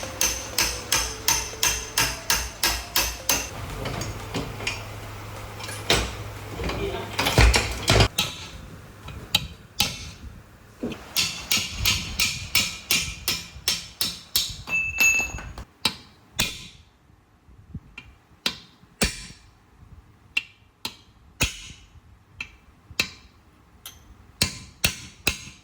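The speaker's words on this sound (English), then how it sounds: "Traditional hammering was the only way to get them loose." Metal hammer blows strike jammed shock mount bolts on a Kawasaki Ninja 250 in a motorcycle garage, sharp rhythmic clanks in quick bursts, some ringing, with brief pauses between series.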